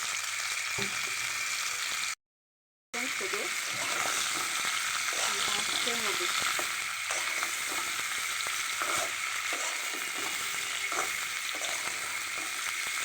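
Oil heating in a hot pan for frying, giving a continuous loud crackling sizzle with faint stirring clicks and a short gap early on, without speech.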